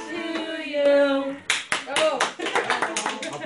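A birthday song gives way to a few people clapping along in quick, uneven bursts, close and fairly loud, with singing and voices continuing over the claps.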